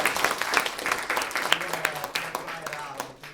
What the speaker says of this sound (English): Bob Keller another round of applause